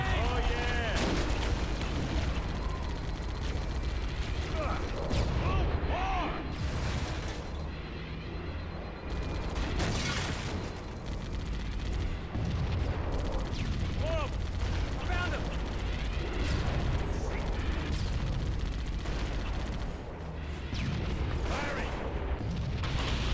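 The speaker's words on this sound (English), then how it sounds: "Tank beats everything, man. Firing!" Heavy cannon blasts boom from a tank in Halo CE amid continuous dense gunfire and explosions. A voice talks excitedly over the battle.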